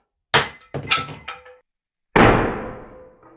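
A hammer strikes an RC car chassis in a few sharp blows: one loud hit, then a quick cluster of smaller knocks, a pause, and a final heavy crashing impact that rings out and decays.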